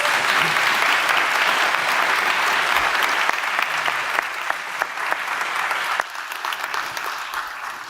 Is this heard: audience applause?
yes